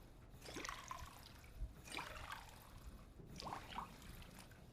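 Water trickles and pours into bottles in Fallout, three short filling bursts with gurgling splashes, faint and close, separated by brief pauses.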